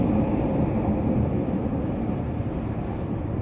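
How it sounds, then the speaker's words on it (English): A train rolling into a station platform, a steady, continuous rumble of wheels on rails that stays loud and even throughout, with no voices. "Incoming train."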